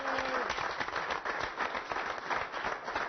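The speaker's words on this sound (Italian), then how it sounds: "Facciamo tutti un applauso insieme" A studio audience on an Italian TV show claps steadily and densely, a close, continuous wash of applause that lasts the whole stretch.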